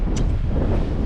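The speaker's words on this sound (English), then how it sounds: "we'll get the wind coming out of the north right now" Wind from the north buffeting a microphone aboard a boat on a Great Lakes passage, a loud continuous low rumble with no distinct rhythm.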